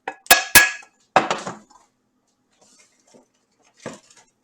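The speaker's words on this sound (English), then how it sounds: "I'll take and scrape this all off of here. Get it all in there." Utensil scraping tuna mac and cheese from a pan: two sharp metallic knocks, then a burst of scraping, followed by quiet and a brief faint scrape near the end.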